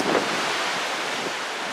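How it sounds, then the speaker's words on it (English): Wind gusting through a short passage under a bridge on an urban hike, a steady, loud, broadband rush buffeting the microphone with no voices. "that little section going under the bridge was a wind tunnel"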